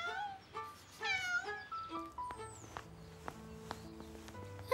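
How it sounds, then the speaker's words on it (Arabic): Small cat in an animated cartoon, giving a few high meows amid light footsteps, tonal chimes and soft background music. "هيا يا قطتي، انظر كيف تتسلق"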